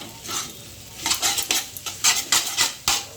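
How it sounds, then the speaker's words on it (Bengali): Maggi noodles are stir-fried in a pan, the spatula scraping and clanking against the metal in quick repeated strokes over a light sizzle, close and fairly loud. "এরপর এটা ভালো করে ভাজতে হবে আর কি"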